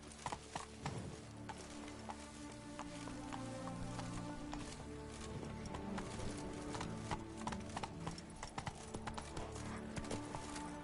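Roach the horse galloping in a video game, steady rapid hoofbeats clip-clopping throughout over a dense game soundtrack, with a brief whinny-like sound near the start.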